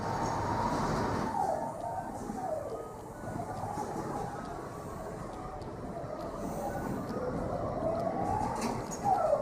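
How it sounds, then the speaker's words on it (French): Inside a train station, with a steady rumbling rail hum and faint squealing tones that rise and fall over continuous background noise. "Je suis encore dans la gare"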